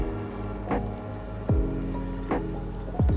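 The engine of a powered paraglider flying overhead gives a steady, droning hum with a few soft pulsing swells, heard outdoors from a distance with no voices.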